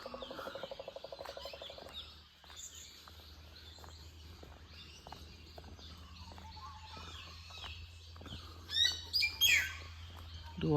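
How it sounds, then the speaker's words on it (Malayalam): Many small birds chirp and call all around on a misty Munnar hill-station morning, a dense, layered chorus with a steady low hum beneath and louder close calls bursting out near the end. "പലയിടത്തും ഞാൻ താമസിച്ചിട്ടുണ്ടെങ്കിലും ഇത്രയും കിളികളുടെ സൗണ്ട് ഞാൻ കേട്ടിട്ടില്ല"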